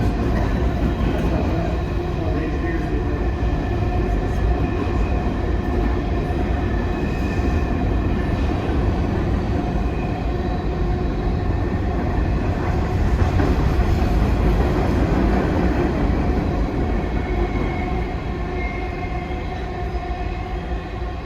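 A train rolls past on the railroad in Dyer County, a steady, loud, continuous rumble with rail clatter that holds for the full stretch, close by and with no talk over it.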